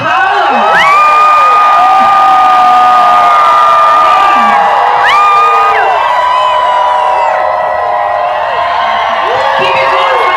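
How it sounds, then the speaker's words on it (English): A large crowd at a fan event in Sao Paulo cheers, whoops and shouts continuously, with high excited voices rising and falling. The sound is loud, close and dense throughout. "Keep it going for the applause"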